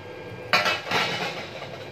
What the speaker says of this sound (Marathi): आता आपण याचा गोळा वाटणार आहोत।